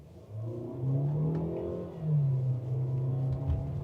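A Tata Harrier's 1.5-litre four-cylinder petrol engine accelerates from inside the cabin, a smooth rising drone that swells and shifts up once, steady and moderately loud with no talk.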